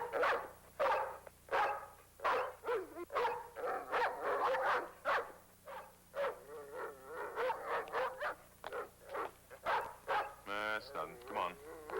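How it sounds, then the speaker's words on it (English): A dog barks repeatedly in quick, irregular bursts, fairly close, with a few higher yips mixed in. "Why is he barking?"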